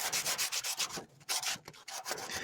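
Rhythmic scraping of sandpaper rubbed back and forth over auto body filler, close up, in repeated strokes with a brief pause midway.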